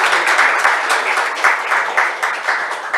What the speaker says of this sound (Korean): 홍순봉. 박수 부탁드리겠습니다.